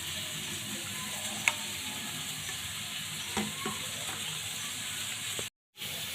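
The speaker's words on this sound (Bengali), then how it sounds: "মাছটা আমি সুন্দর করে এবার মাখিয়ে নিচ্ছি" Hilsa fish being mixed by hand with mustard and oil, a soft wet squelching and slapping close by, with a few sharp clicks, quiet and steady, ending with a brief drop to silence.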